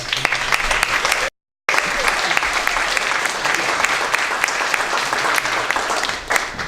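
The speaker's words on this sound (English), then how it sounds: "can we have just a round of applause for Annie and the people that" A crowd at an arts network gathering claps loudly and continuously, the dense applause broken only by a brief dropout early on before resuming at full strength.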